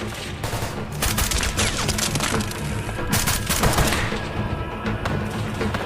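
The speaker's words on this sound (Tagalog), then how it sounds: "Sinubukan nilang paputukan si Marco kaya napilitan siyang gumanti ng putok." Gunfire exchange in a film: dense bursts of rapid shots and sharp cracks pile up over several seconds, loud and close, with splintering impacts and booming echoes and no voices.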